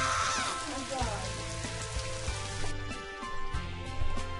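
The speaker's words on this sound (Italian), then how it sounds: "Prova a far piovere, pioggia." Heavy rain summoned in Scribblenauts Unlimited: a steady hiss of falling rain runs throughout, with low game tones and murmured speech underneath.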